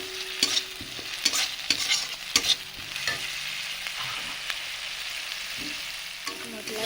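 Ground dry red chilli spice paste frying in oil for a pumpkin-stem and small-prawn dish: a soft sizzle beneath repeated sharp scrapes and taps of a spatula stirring in the pan, close and alone.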